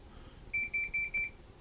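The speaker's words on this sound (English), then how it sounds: "Now you notice that beeped initially when I touched the power pins" An Xbox 360 power supply, wired to a Synology NAS harness, gives four short, even, high electronic beeps in quick succession when its power pins are touched. The beeps are clear and sound alone over a quiet background.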